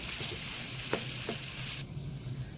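Two large chopped onions hitting a hot pan for chicken fajita with soy sauce, giving a steady close sizzle with a couple of sharp stirring clinks, the frying hiss easing slightly toward the end.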